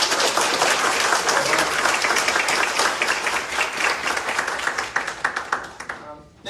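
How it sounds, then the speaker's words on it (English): An audience at a mathematics scholarship event claps loudly for student honorees, with dense sustained applause that thins into scattered claps and fades at the end. "Can we have a round of applause for our students?"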